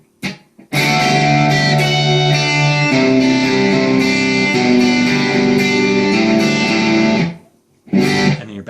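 An electric guitar plays a riff as a lesson example, with ringing, full chords and arpeggiated notes for about seven seconds, then a short pause and a final strum.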